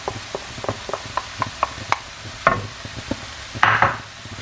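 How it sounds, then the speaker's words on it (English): Sweet corn and peas being stirred in a pan, a close series of sharp spoon scrapes and clinks against the metal over a faint sizzle, ending in a louder scraping burst. "I'm just going to give that a stir and just warm that through for a couple of minutes"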